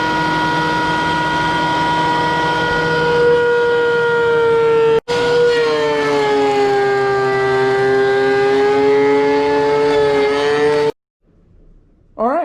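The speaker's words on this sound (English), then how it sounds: "I'll run this through the little DeWalt planer here, and I'll take a few layers off and smooth it out" A small DeWalt planer takes layers off a slice of wood, a loud, steady whining drone rich in harmonics, briefly cut off partway through, then running on before shutting down.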